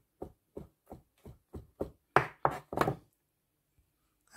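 Cheese being finely chopped on a board for prawn spring rolls, a close series of about nine evenly spaced knife chops, the last few louder and quicker, then near silence.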